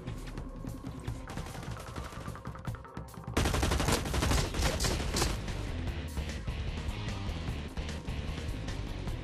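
Sustained full-auto gunfire from the online shooter game Blacklight Retribution rattles on continuously, with the rate and volume increasing partway through as dense bursts overlap.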